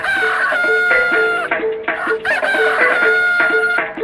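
A rooster crows repeatedly, loud and close, its long harmonic calls rising and falling in quick succession with little else audible.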